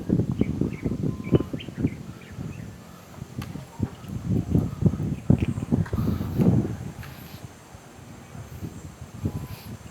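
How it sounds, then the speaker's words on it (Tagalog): Faint bird chirps drift in from a distance beneath rustling and soft thumping movement, with occasional breezy noise, no voices. "Dinig pa yung mga huni ng ibon."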